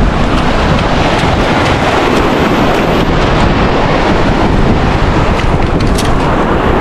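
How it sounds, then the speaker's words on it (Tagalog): Strong sea waves breaking at dusk around a small fishing outing, a dense, steady roar of surf mixed with gusty wind buffeting the microphone, loud and close throughout with no voices. "Lakas ng alon."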